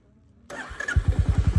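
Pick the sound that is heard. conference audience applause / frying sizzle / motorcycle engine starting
motorcycle engine starting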